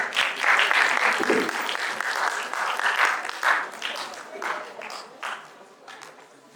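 An audience gives a hearty round of applause at an academic talk on gynaecological disorders, with brisk, dense clapping that swells and then slowly tapers off.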